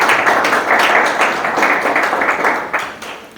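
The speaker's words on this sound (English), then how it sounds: "Clap for her." A classroom of students applauds a classmate, a dense steady burst of clapping from many hands lasting a few seconds, loud and close, with no talk over it.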